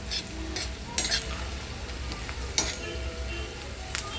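Chopped onion frying in a pan for a Maharashtrian potato bhaji with spring onion, a steady sizzle with a few sharp scraping stirs of a spoon against the pan, close and fairly loud, no talking.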